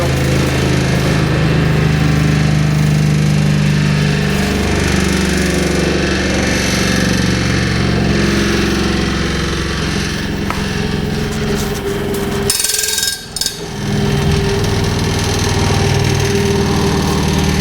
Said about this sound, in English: With this kind of a large motor and a large stone, it takes a bit to spool it down and to slow it down.